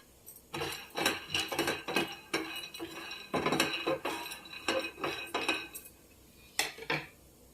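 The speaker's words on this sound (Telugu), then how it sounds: "ఫస్ట్ పల్లీలు వేయించుకోవాలి" Peanuts roast in a pan, rattling and clinking in busy, uneven bursts as they are stirred and tossed. The clatter is close and moderately loud, easing off briefly near the end.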